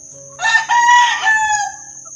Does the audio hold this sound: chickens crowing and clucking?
yes